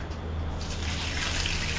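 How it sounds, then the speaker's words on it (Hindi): Water being poured into a hot tempering of oil and spices for khaman dhokla, a steady splashing and sizzling rush that holds near and constant from start to end. "ये डल गया पानी तड़के में"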